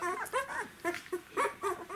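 Nine-day-old puppies, a Bamboo and Rahan litter, whimper and yip in a run of short, high, wavering cries close to the microphone, with brief pauses between calls.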